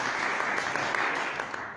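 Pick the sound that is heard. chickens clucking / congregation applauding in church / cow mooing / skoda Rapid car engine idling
congregation applauding in church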